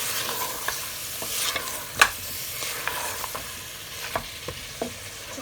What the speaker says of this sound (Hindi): हरा धनिया डाल के अच्छी तरह से इसको मिक्स कर लेते हैं।